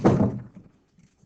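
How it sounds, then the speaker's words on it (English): A classroom door swings shut with one solid, close thunk, followed by quiet room tone and a faint knock near the end. "Close that door, please."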